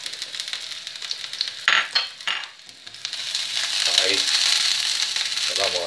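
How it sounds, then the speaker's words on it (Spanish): Garlic frying in hot oil in a pan for a vegetable omelette, a continuous bright sizzle near at hand, with a spoon stirring and scraping against the pan and brief clinks. "Ahí, que se vayan friendo un poquito."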